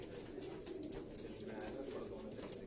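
Sialkoti stuff breed pigeons in a Karachi pigeon loft coo continuously, a dense, murmuring chorus of many birds close by with no clear talking.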